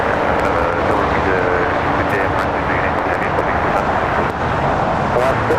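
Japan Airlines Dreamliner arriving from Osaka at LAX, a steady broad jet roar filling the whole stretch with traffic noise mixed in and people talking over it.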